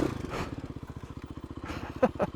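Dirt bike engine chugging steadily while riding through deep, soft sand, with a rapid low pulsing exhaust note, a voice speaking briefly near the start and a couple of short sharper sounds toward the end.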